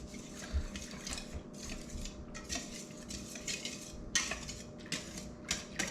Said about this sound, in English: Let's just get a whisk really quick. Just kind of put this up, whisk it all together, get it nice and consistent.